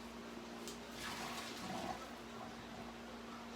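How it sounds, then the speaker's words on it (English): Hot dogs drained through a strainer in a kitchen sink, water pouring out in a steady splashing rush that swells briefly in the middle, close and fairly loud with no talking. "I'm just fixing to take them and strain them in this strainer in the sink"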